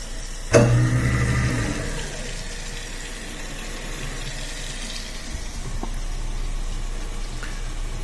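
A newly installed kitchen garbage disposal starts with a sharp onset and hums steadily under running tap water, the motor and flowing water continuing together for several seconds.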